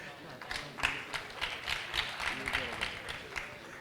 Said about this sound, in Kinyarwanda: amashyi menshi cyane kuri Junior Giti n'umuryango we